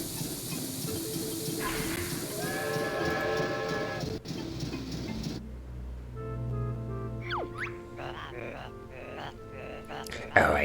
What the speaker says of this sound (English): Oh, I think I heard the train arrive.